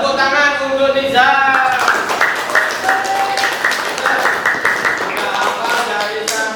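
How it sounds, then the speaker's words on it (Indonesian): Classroom applause for a student named Niza in an Indonesian religious lesson: a burst of many children clapping together, brisk and fairly loud, mixed with young voices talking and calling out over the claps. "Tepuk tangan untuk Niza."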